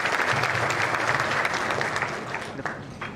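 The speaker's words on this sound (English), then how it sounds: "A big round of applause for him." Round of applause for an associate dean at a college ceremony, a dense sustained clatter of clapping from a seated audience that stays loud for several seconds and begins to thin toward the end.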